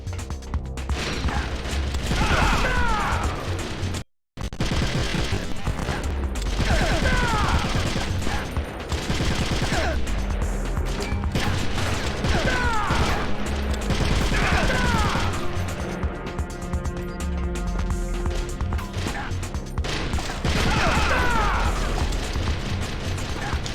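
Gunfire in Metal Gear Solid: The Twin Snakes on GameCube comes as sustained rattling bursts mixed with mechanical clatter and game music, with one abrupt brief silence early on.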